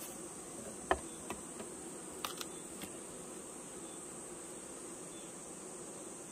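Insects buzz steadily around a beehive where hornets are attacking, a continuous high drone with a few brief clicks and taps, no voices.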